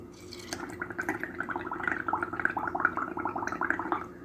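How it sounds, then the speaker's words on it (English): Air blown through a drinking straw into liquid for a craft technique, producing a close, continuous bubbling gurgle of rapid pops that starts after a brief pause and runs steadily to the end. "So the simple part of this technique is you just blow bubbles."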